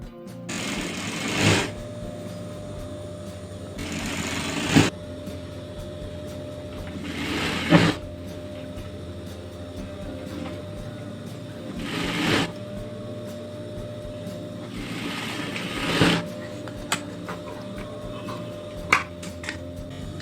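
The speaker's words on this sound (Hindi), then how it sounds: "इतनी दूर दूर में हमें पूरी दूर सिलाई लगानी है।" Stitching a hem along the bottom edge of a Rajputi-style lehenga, a sewing machine hums steadily throughout, with brief louder surges about every three to four seconds and a few sharp ticks.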